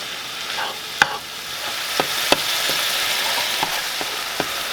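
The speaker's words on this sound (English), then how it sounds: "We're just going to brown the pork like this." Ground pork browns in a hot pan, giving a steady close sizzle and frying hiss with a few sharp clicks of a utensil stirring and scraping the pan.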